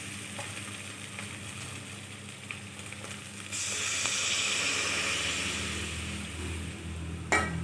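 Water hits hot frying spices in a pan for a shrimp and bean seed dal, setting off a sudden loud, steady sizzle and hiss that swells and lingers, with a small clatter near the end.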